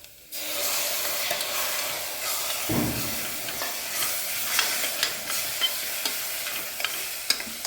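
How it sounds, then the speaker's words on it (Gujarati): Tomato puree goes into a hot, sizzling pan for green peas sev usal, a steady close frying hiss with a soft burst as it lands, followed by scattered stirring clinks, no talking. "2 મિનિટ બરાબર સંતળાઈ જાય પછી આપણે એમાં ટોમેટો પ્યુરી નાખવાની છે."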